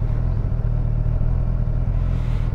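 Suzuki Katana motorcycle engine idling and revving, a loud steady low throbbing rumble with a pulsing beat, close and continuous throughout, with no talk.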